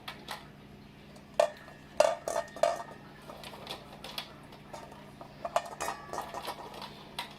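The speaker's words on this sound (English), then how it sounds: "I'm going to put the quail eggs in, and we'll see what the quail eggs weigh" Quail eggs set one by one into a bowl on a kitchen scale, making a series of small hard clicks and clinks, close and fairly quiet, with several distinct taps spread over the clip.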